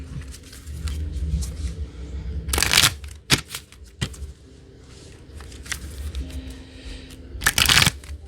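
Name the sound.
shuffling tarot cards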